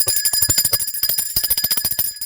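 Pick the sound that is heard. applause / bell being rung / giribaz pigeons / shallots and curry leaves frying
bell being rung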